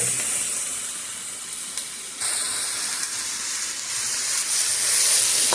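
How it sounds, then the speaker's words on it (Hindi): Mixed vegetables for a chicken soup roasting and frying in a pan, giving a steady, fairly loud hiss and sizzle throughout, with the crackle rising briefly in a few places and no talking. "इसको अच्छी तरह से आप रोस्ट कर लें, फ्राई कर लें"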